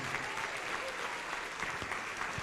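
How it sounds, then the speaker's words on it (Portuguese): A church congregation applauds continuously, a steady wash of many hands clapping at moderate distance, fairly quiet and uniform with a murmur of voices underneath. "Vamos aplaudir mais ao nome de Jesus."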